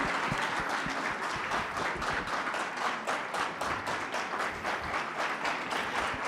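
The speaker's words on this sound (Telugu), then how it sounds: "ఒకసారి మళ్ళీ ఆ హర్షధ్వానాలు" Audience applause at a film celebration event, steady dense clapping from a crowd sustained throughout, with no talking.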